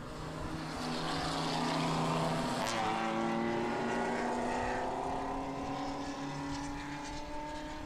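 Race cars in the 2014 O'Reilly Auto Parts Grand Prix roar past side by side, engines droning loud and steady with shifting pitch as they race through a corner.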